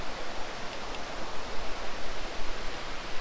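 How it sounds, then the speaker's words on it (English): A stream rushes steadily outdoors, a dense broadband hiss of flowing water holding constant and close throughout with no voices. "I want to try to get that rushing water in the foreground."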